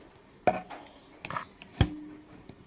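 Chicken biryani rice being stirred in a cooking pot, with a few separate scraping clinks of a metal spoon against the pot, spaced out and fairly quiet.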